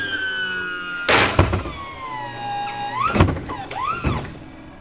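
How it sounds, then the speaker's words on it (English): Landing gear doors on a Raptor prototype aircraft model cycling, with a small spring holding the doors open vibrating; sharp mechanical thunks come in bursts alongside whining, siren-like tonal sweeps from the gear actuation. "you can hear that little spring that holds the doors open here, that's sort of vibrating"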